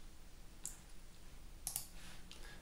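A computer mouse is clicked three times, once and then in a quick pair, the clicks quiet and close against a faint background hiss.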